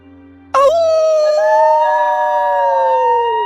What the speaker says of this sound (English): the dogs howl with their master.